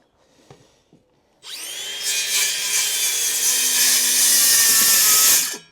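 A power saw rips through a wooden board for a garden room build: a short quiet lead-in with light knocks, then a loud, sustained, high whining cut that holds for about four seconds, close by and alone.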